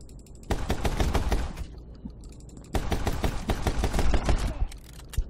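Enemy laser gunfire in the My Friend Pedro video game comes as two rapid bursts of sharp, crackling shots, each lasting a couple of seconds with a brief lull between, fairly loud and close.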